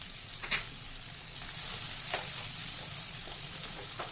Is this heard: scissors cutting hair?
no